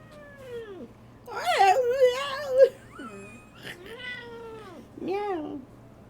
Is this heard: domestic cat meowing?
yes